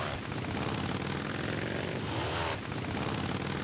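Motorcycle engines in a war strategy computer game: a steady, continuous engine drone that stays loud and near throughout, with a brief dip partway through.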